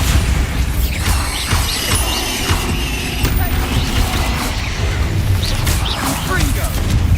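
The Bombarda blasting spell exploding in the video game Hogwarts Legacy, heavy crashes and rumbling bursts over constant battle clatter, loud and close, with a voice speaking during the fight.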